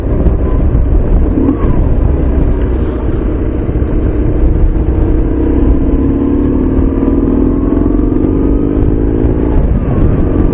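A motorcycle engine drones steadily while riding, loud and close with heavy wind buffeting, its pitch slowly rising as the bike accelerates.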